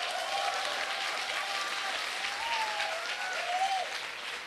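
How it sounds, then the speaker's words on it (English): An audience at a speaking workshop claps together in a steady, dense wash of applause that holds at an even level throughout, with no voices on top. "Come on, clap your hands, clap your hands."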